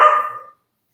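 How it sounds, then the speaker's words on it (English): A single sharp bark from a household dog, close and loud, quickly fading to silence. "we have dogs"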